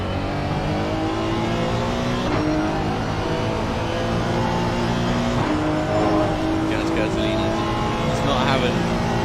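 Porsche race car on a wet Silverstone track in a racing video game, engine droning and revving steadily with tire hiss, close and continuous under an excited commentator's voice.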